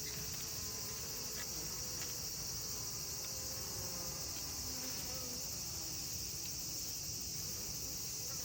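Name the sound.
Japanese honeybees buzzing in hive box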